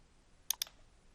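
Two quick mouse clicks, close and crisp, spaced a fraction of a second apart, on a computer while working in BandLab, with quiet room tone around them.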